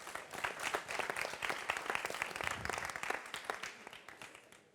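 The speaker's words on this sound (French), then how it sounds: "Je vous demande d'applaudir l'association Évry Insolente et Révolte-toi Évry." An audience at a public debate on ecology gives steady, dense applause, many hands clapping continuously at a moderate distance and gradually thinning toward the end.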